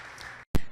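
Applause from a church congregation bursts in as a short loud clap after a brief silence, following a murmur of the gathered crowd.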